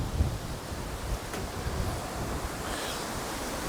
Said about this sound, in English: it is still nasty and windy, right?